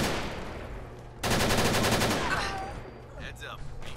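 Rapid automatic gunfire at a firing range in Fallout 4, a dense burst of shots starting abruptly and running for about a second, with other game sounds and a faint voice trailing after.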